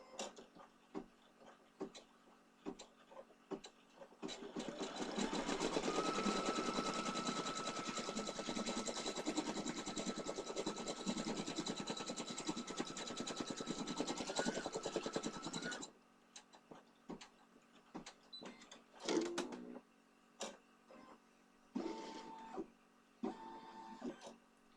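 A Kimberbell-project embroidery sewing machine runs a placement stitch for a clover in a fast, dense, rattling needle chatter lasting about eleven seconds. Quieter clicks and short bursts come before and after, with no talking.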